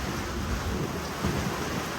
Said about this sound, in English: the rain's really picked up, and it's the wind's picked up a little bit too